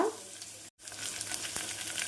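Onions and tempering spices fry in hot oil with a continuous close hiss and scattered pops, broken by a very brief silent gap.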